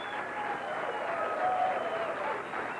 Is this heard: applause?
yes